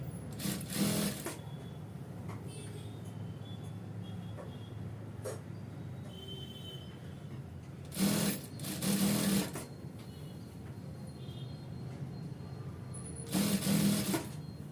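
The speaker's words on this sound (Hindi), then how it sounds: "अब हमें जो है पूरे राउंड में इसे सिलाई लगाते हुए चले जाना है।" A sewing machine stitches around the round hem of ankle-length stretch pants, running in three short bursts near the start, middle and end over a steady low hum, close and moderately loud with no talk.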